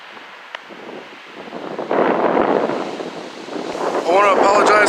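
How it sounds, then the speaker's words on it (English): Strong wind buffets the microphone at a hilltop near waterfalls, making a steady, loud rushing roar that swells midway. "I want to apologize for the audio, guys. It's really fucking windy up here."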